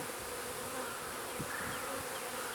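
Honeybees from a newly installed colony drone steadily at the hive in a dense, continuous buzz, close and loud, with no voices over it.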